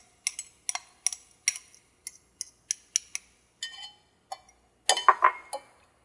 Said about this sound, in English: I'm just giving it a good stir,